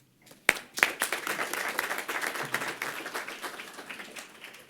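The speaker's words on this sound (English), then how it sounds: "Let's make sure we do give a round of applause to Regina Gaines, Dr. Andrea Dunbar, and Ter" Applause from an audience at a wine shop grand opening press conference, a burst of clapping that starts sharply and then settles into a steady, fairly close round before tapering slightly.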